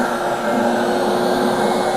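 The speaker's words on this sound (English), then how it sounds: "you could turn the vacuum on" A truckmount-style carpet and upholstery cleaning vacuum motor runs with a steady, loud whine and droning hum, continuous and close, then cuts off abruptly at the end.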